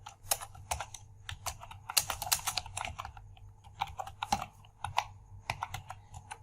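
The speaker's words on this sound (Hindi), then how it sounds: "अब इस एक्सपेंडिचर्स में मैं यहाँ पे सबसे पहले सीरियल नंबर टाइप करूँगा" Steady, close typing on a computer keyboard while entering data into an Excel spreadsheet, with rapid irregular key clicks in quick bursts and short pauses, no speech.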